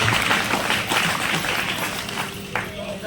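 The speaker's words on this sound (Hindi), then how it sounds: "एक बार जोरदार तालियां फिर से सर के लिए बजा दीजिए" Steady applause from a gathered crowd at a nursing school event, a dense wash of clapping that holds fairly level and then tapers slightly toward the end.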